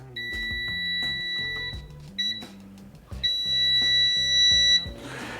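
Loud, piercing electronic beeps from a Gourmia air fryer's loud speaker sound in three bursts, a long tone, a short blip, then another long tone, with music playing underneath.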